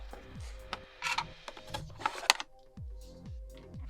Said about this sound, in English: We're going to go ahead and unbox that as well.